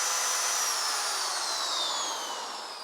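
A 350-watt power drill, run at full power from a portable EcoFlow generator, whines steadily and loudly for the whole stretch, its pitch easing down slightly toward the end, with no voices.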